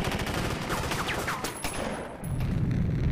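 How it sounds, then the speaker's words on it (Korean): A gunshot and a car explosion in a war film erupt into a dense, loud roar of crackling blasts and rumbling debris that fills the whole stretch, with a sharp burst midway and a deep rumble swelling at the end. "그 순간 한 발의 총성과 함께 차량이 폭파되고 마는데요."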